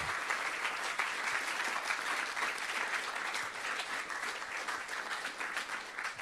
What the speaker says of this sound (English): hopefully a round of applause for all of the people here up front